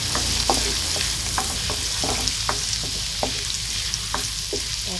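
Squash sizzles and fries in a hot pan for ginataang kalabasa, a continuous close crackle broken by scattered sharp clicks and scrapes of stirring, with no one talking.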